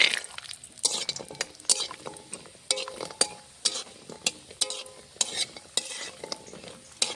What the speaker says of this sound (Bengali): আমি টাইমিতে সর্ষের তেল দিয়ে দিয়েছি গরম হয়ে গেছে আমি এখন ডালের বড়িটা ভেজে নেব